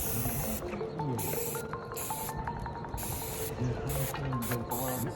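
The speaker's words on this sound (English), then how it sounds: "Spray can." An aerosol spray can hisses in several short bursts with brief pauses between them, close by, amid faint rattling mechanical noise while a log cabin is being stained.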